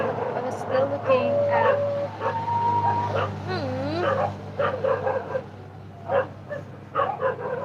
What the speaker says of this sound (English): It's my neighbor's dog.